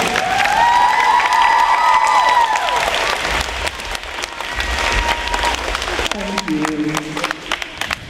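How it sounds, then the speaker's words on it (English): Loud applause and cheering from a large crowd at a school pep rally fill the room, with shouts and a few voices rising over the clapping before it thins out. "let's give them a big round of applause"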